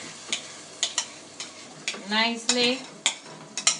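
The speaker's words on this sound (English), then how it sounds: "stir it again. Stirring it." A spoon scrapes and knocks rhythmically in a pot as tomatoes and pepper are stirred into simmering jollof rice, with a soft sizzle underneath and a brief spoken word midway.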